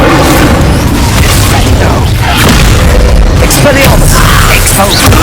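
Incendio, the fire spell in Hogwarts Legacy, roars as a continuous loud booming burst of flame with crackling pops, mixed with combat effects and brief voice sounds across several seconds.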